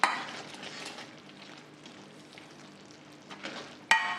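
Ground peanut and sesame powder being stirred into ghee in a pan for tilachi vadi, with soft scraping and faint sizzling throughout, close and quiet, ending on a sharp clink of the utensil.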